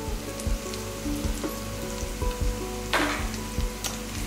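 Turmeric powder and Dhansak masala with a little salt sizzling in a pan for chicken curry, a steady close crackling hiss with a few sharper scraping bursts as the spices are stirred.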